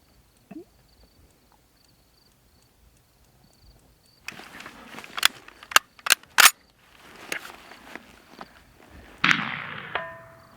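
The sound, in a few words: M1 Carbine rifle gunshots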